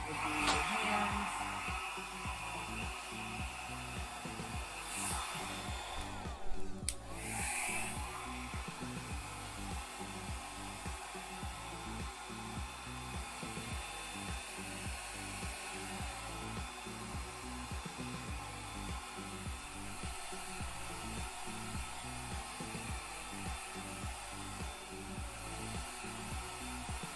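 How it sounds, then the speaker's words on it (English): A GoGo Mini hair dryer whirs steadily for a long stretch while drying short hair, a continuous motor hum with airy rush and a brief bump partway through. "you're gonna do it just with this dryer"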